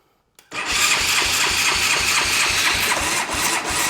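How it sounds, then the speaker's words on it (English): A Honda Recon 250 ATV engine from 1998 kicks into life after a short silence, then runs continuously with a rough, pulsing mid-pitched drone and regular uneven throbs, close and loud, with no talking. "As soon as I held the brake and the motor was under load,"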